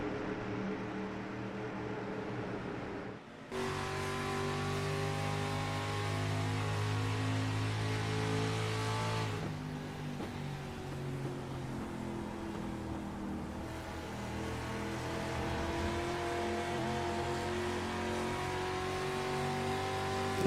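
A street stock race car engine drones steadily at a high, sustained pitch, with one sharp dip near the start and small shifts in tone as the car rolls on and off throttle.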